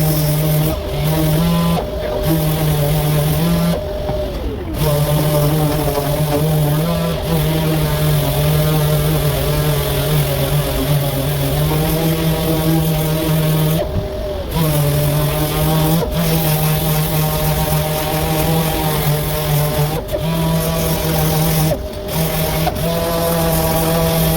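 Sandpaper rubs steadily against a car body panel in long, continuous back-and-forth strokes, loud and close, pausing briefly a few times.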